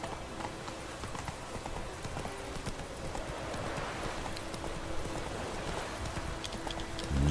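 Horse hooves clip-clop steadily through a ride in the video game The Witcher, a continuous even rhythm of mid-distance hoofbeats over faint rain-like ambience, with no talking.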